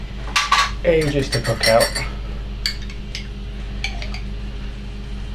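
Pork cooking in a pan during a kitchen ingredient challenge: clinking of cutlery and pans over a low steady hum, with short bursts of speech near the start.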